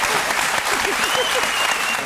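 Studio audience applauding on a French television comedy show. Dense, loud, continuous clapping, with brief cheering and whistles faintly mixed in.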